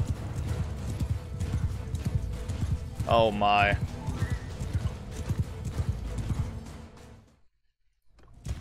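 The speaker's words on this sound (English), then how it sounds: "look at all the horses fleeing the battlefield" In the video game Bannerlord, many horses gallop away from a battlefield with dense, rapid clip-clopping hooves and a loud whinny partway through, while someone talks over the noise before it drops away near the end.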